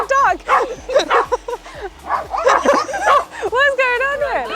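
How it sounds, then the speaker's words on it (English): Several dogs at a horse rescue sanctuary finca in Tenerife bark and yip excitedly in quick, overlapping bursts close by, with whimpers mixed in and a person talking among them. "This is my little crowd of dogs that have chosen me"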